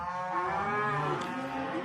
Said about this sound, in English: There's a bunch of cows out there whining because their calves are right over there where you can't see.